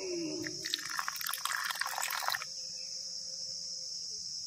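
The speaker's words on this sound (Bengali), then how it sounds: "অল্প একটু জল দিয়ে দেব" Water poured into a bowl of salt and cumin powder while cooking a vegetarian dish, a brief close trickle that stops after about two seconds, over a faint steady hum.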